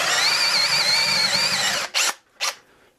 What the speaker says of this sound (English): I'll just drill it out progressively with a couple different sized drill bits